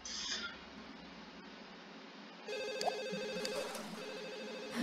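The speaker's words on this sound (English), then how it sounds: "Just don't answer that phone" Telephone ringing in The Sims, a repeating electronic ring tone with short evenly spaced bursts, fairly close and clear over a faint background of game ambience.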